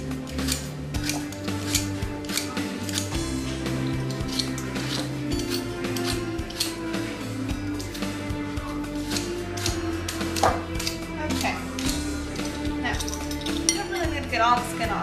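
Repeated scraping and clicking strokes of a peeler working over apples for a homemade apple pie, close and steady, with light clinks of kitchenware and soft background music.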